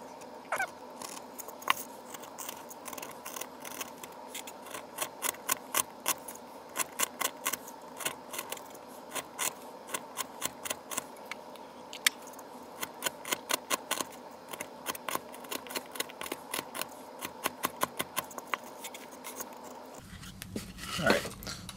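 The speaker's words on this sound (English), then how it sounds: "I'm just gonna take my blade and cut down" A small blade cuts into carving material for a tiny detailed carving, producing a long run of sharp, close snipping and scraping clicks in irregular rhythm, with a brief louder shift near the end.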